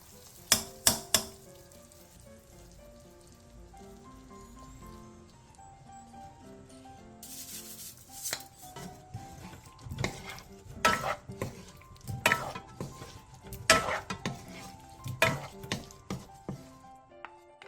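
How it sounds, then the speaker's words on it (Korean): A spoon stirs Korean braised potatoes in a pan as green chili, chopped scallion, perilla oil and sesame seeds are tossed in, with soft sizzling under sharp scraping clinks of utensil on metal that grow busier and louder toward the end. "청양고추와 쫑쫑 썬 대파 조금, 들기름 반 스푼, 통깨를 넣고 가볍게 뒤적여 마무리해주세요."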